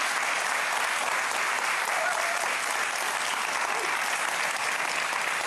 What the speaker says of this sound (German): Großes Lob, großer Applaus.